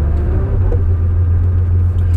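A Porsche 911 restomod engine idles and rumbles at low pitch, a steady mechanical drone with no talking, as the car creeps slowly in reverse.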